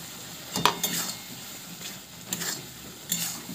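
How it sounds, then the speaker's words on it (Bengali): Tomato and green chili paste sautéed in hot oil in a pan for a tangra fish curry with potato and eggplant, giving a soft sizzle broken by a few stirring scrapes and light clinks of a spoon against the pan. "এবার এটাকে আমি ভালো করে তেল না ছাড়া পর্যন্ত কষিয়ে নেব।"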